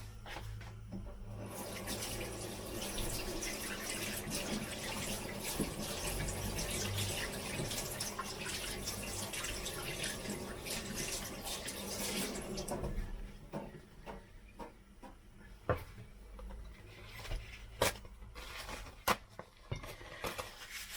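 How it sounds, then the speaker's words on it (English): Running tap water splashes steadily in a kitchen sink as hands are washed, a continuous close rush for about twelve seconds, then stops, leaving scattered drips, clinks and faint handling sounds. "So let me wash my hands quickly."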